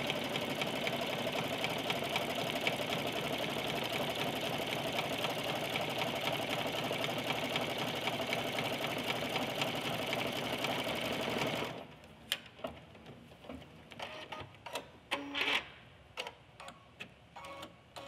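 An embroidery machine stitches an in-the-hoop bear lovey with a dense, steady mechanical hum and rapid needle rattle that runs continuously, then stops abruptly, leaving scattered clicks and handling taps.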